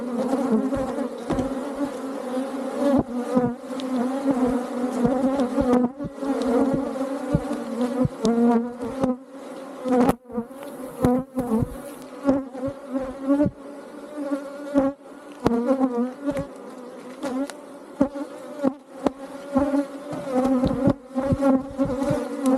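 Aggressive honeybees swarm and buzz around a beehive during a routine hive inspection, a dense, continuous droning hum with individual bees whizzing close past, steady and loud throughout.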